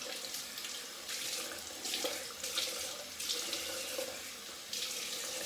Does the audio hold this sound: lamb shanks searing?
no